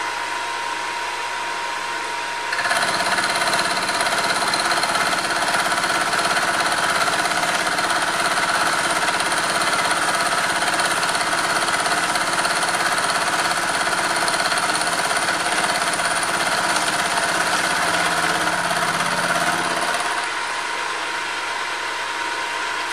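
A Hafco AL355 metal lathe runs with a steady, loud, bright whine and hum that starts abruptly after a quiet low hum and stops cleanly near the end.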